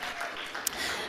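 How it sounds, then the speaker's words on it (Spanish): At a charity gala against leukemia, a theatre audience gives a short burst of applause, a dense wash of clapping that stays steady and fairly faint. "vamos a darle un aplauso a nuestro amigo porque ha acertado"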